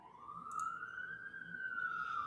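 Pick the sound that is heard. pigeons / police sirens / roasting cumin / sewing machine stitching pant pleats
police sirens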